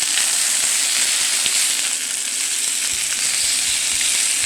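Chicken pieces, including drumsticks, pan-searing skin-side down after being flipped: a loud, even hiss of sizzling fat that carries on with no pause, close up and free of speech.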